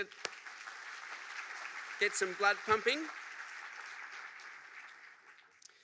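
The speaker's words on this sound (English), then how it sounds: "Can we give them a round of applause?" Steady audience applause at a conference fills the clip, with someone speaking briefly over the clapping partway through.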